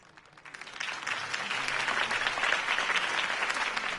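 Crowd applause at a campaign speech in the Batman: The Telltale Series game swells quickly from quiet to a full, loud roar of clapping and continues steadily.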